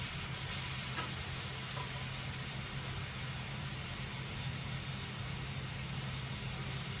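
Garlic ginger paste sizzling in plenty of hot oil in a pan for a restaurant-style Bengal naga phall curry, a soft, steady hiss with no talking.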